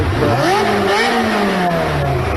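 A car engine revs hard, its pitch sweeping up and falling back in continuous surges over a couple of seconds, loud and close with no talking.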